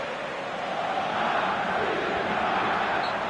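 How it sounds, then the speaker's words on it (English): Steady, dense crowd cheering and roar from the stands in a PS4 football video game, holding a continuous wash of noise throughout. "at least the crowd are appreciative of his efforts"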